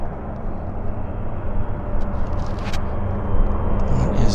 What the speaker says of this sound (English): I think we got a float plane coming at us here